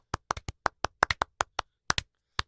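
Single pair of hands clapping about fourteen times, irregular sharp claps close to the microphone in an otherwise quiet room, with short pauses between bursts.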